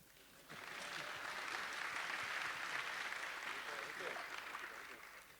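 A film festival audience bursts into applause after a brief pause during a Q&A, steady clapping from many hands that holds for several seconds before starting to fade.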